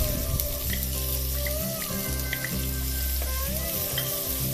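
Onions browning in a pan, the fry crackling steadily and loudly throughout, with low stirring scrapes and occasional brief tonal squeaks riding over the dense sizzle.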